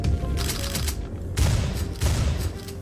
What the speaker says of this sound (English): They're showing us how the shotgun works.